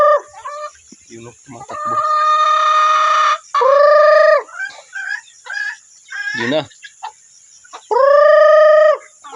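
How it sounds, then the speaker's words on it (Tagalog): Pet backyard chickens clucking and a rooster crowing several times up close, long harmonic crows recurring between softer clucks, with a person calling and talking briefly in between. "tatawagin na lang natin yung mga alagang chicken"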